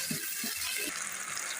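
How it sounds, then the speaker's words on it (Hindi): Half a cup of water splashes and pours steadily into a pan of garlic and chicken, a short continuous gushing sound at moderate volume. "आधा कप हम इसमें पानी ऐड करेंगे"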